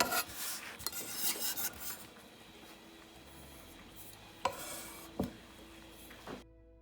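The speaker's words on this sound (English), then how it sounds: "My knife is nice and sharp. It's not bruising it. It's just chopping it up" A sharp knife scrapes and taps on a cutting board chopping fresh herbs in a few soft strokes and sharp knocks, quiet and close.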